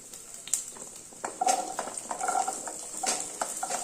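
Dal and garlic with chillies dry-roast in a pan for ridge gourd chutney, giving faint crackling and a scatter of clinks and scrapes from a spoon stirring against the metal.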